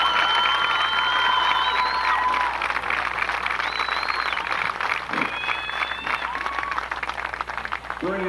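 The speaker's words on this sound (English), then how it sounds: "So please give Mr. McCullough one more round of applause." An audience at a football game event applauds and cheers for Coach McCullough, a steady broad wash of clapping with scattered shouts and whistles over several seconds, children's voices and talk mixed in the crowd noise.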